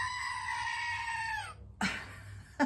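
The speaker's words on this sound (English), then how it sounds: "you just press the Screaming Goat." A Screaming Goat desk toy being pressed, giving a loud, harmonic, bleating goat-like scream that lasts about a second and a half and cuts off, followed by two short clicks as it is handled, with no talking.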